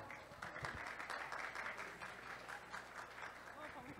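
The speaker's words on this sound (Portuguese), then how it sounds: "eu vou pedir uma salva de palmas para a nossa convidada" Steady applause from a crowd at a live talk event welcoming a guest on stage fills the whole stretch, an even wash of clapping with murmured voices mixed underneath.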